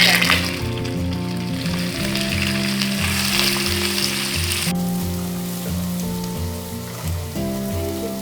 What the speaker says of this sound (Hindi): अब हमारा ऑयल गर्म होगा, अब इसमें हम ऑनियन ऐड करेंगे।